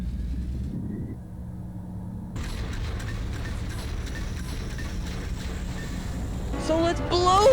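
A broken MRI machine in the video game Nightmare House goes off, with a low mechanical hum that cuts out, then a sudden burst of harsh, noisy rumble building to a louder crackling surge, while a voice speaks.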